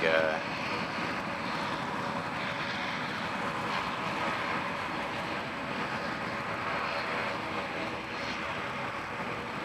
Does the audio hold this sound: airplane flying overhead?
yes